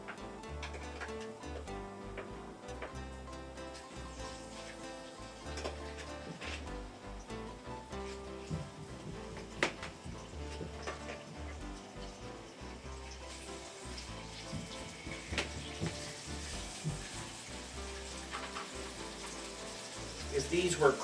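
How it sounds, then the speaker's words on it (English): Chicken thighs fry skin side down in a hot, shimmering pan, giving a steady, dense sizzle that continues throughout and swells slightly near the end. "Get these going here all nice and hot, and we're going to put them in here skin side down."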